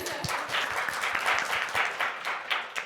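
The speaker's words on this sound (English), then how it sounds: "Wait, quick clap for Ayushi." A brief burst of audience clapping at a youth climate leadership event: many hands clapping in a quick, fairly loud patter that holds steady for a few seconds, with no voices over it.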